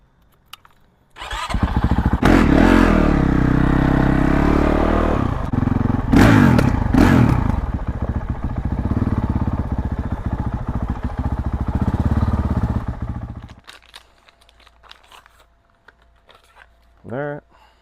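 A 2023 Honda CRF450R dirt bike with a Yoshimura exhaust, silencer insert removed, fires up and revs loudly in sharp blips before settling. The engine then shuts off, leaving faint clatter and a brief final noise.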